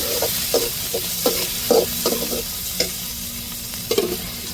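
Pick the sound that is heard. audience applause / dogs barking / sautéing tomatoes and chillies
sautéing tomatoes and chillies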